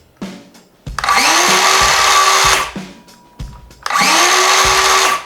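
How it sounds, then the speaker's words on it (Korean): A DeWALT wood-cutting circular saw spins up twice with a high whining roar, each run lasting a few seconds, separated by the motor winding down and clunks. "우선 목재용 원형 톱 소리는"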